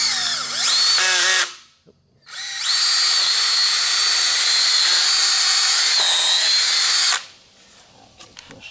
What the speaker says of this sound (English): I'm going to go ahead and drill 2 holes right here